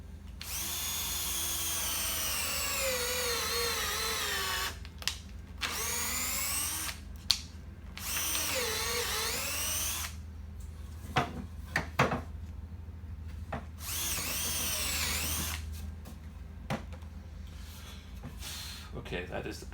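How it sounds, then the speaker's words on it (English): A power drill bores into wood while building sawhorses, whirring in several long bursts with brief pauses, spin-ups and slowdowns between them, close and steady, with occasional knocks and handling sounds in the gaps. "So I'm drilling into this space right here."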